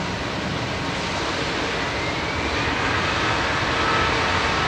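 easyJet airliner departing Manchester Airport, a steady loud broadband jet engine roar that holds constant and swells slightly toward the end, with no voices.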